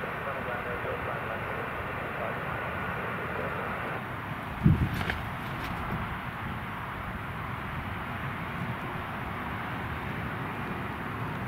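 Airliner touching down late on runway 25 at Newcastle Airport in a storm crosswind, a steady broadband roar of engines and gusting wind throughout with a brief thump near the middle, likely the touchdown.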